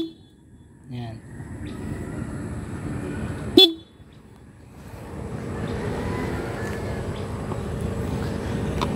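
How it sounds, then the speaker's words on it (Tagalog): A loud, sharp aftermarket horn on a Honda ADV150 motorcycle blasts once briefly, followed by steady engine hum; a shorter honk sounds earlier. "Tapos, pinapalitan din natin siya ng busina na PIA. Ayun, ang lakas."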